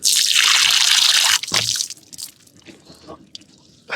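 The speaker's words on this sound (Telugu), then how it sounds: "కాస్త మొహాన్ని నీళ్లు కలుపుకుందాం" Water splashed onto a face by hand outdoors on a hiking trail, a loud close burst of splashing followed by a softer splash and scattered drips.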